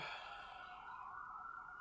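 Emergency vehicle sirens wail faintly in the distance, a steady high tone sliding slowly downward, heard alone without speech.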